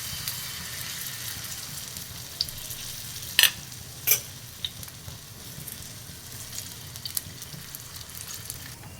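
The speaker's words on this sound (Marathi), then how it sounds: "आता हे दिरड्याचं बॅटर आपण तव्यामध्ये सोडूया" Steady, gentle sizzling of chickpea flour batter in hot oil on a griddle, broken by a couple of sharp metallic clicks midway, with no talking.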